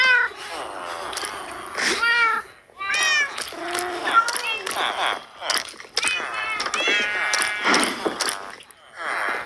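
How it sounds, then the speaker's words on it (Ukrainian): A cat meows loudly and repeatedly, with drawn-out, wavering cries that come close together, mixed with people talking nearby. "О, ну, там кіт підходить."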